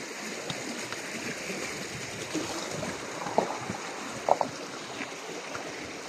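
Steady rushing of flowing water fills the scene, a broad continuous wash with a couple of faint clicks and no talking.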